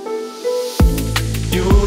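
A liquid drum and bass track built from a vocal, keys and a bass. Sustained tones open it, then a deep bass drops in with crisp, bright percussion hits above it, moderately loud.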